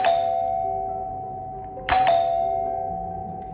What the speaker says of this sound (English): This is our operational bell setup.